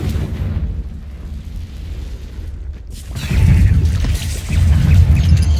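Confringo blasting spell explosions in Hogwarts Legacy: booming, rumbling blasts rolling in after a quieter stretch and growing heavier toward the end, with deep low-end thumps.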